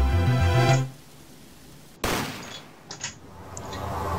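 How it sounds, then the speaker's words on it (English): A single sharp gunshot in the Apollo Justice: Ace Attorney video game, a sudden loud crack cutting off the music, followed by a few fainter thuds and a lingering rumble. "Sounds like, looks like a gunshot."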